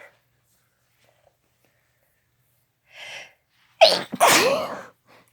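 One close, loud sneeze: a faint breathy intake, then a sharp double burst with a forceful exhale, alone in an otherwise quiet room.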